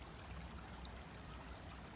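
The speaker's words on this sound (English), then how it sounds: "I thought I would show you this nice little brook" A small brook flowing through a park, a steady, soft broadband rush of running water that holds evenly throughout, close by and with no voices.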